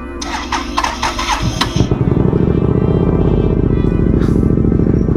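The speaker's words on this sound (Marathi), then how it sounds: "2 स्ट्रोक इंजिन आहे." An old Hyosung two-stroke motorcycle engine starts up close by: a few uneven cranking bursts, then it catches into a loud, rapid, throbbing idle that carries on steadily.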